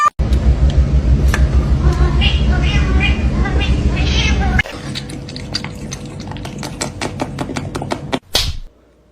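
A cat meows amid a loud, steady rushing noise, then a quieter stretch follows with a series of sharp, close clicks and taps.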